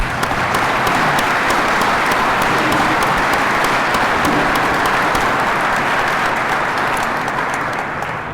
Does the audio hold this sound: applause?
yes